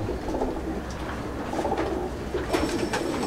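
Chennai breed pigeons in a loft, with soft low coos near at hand and a few brief chirps over a murmuring background.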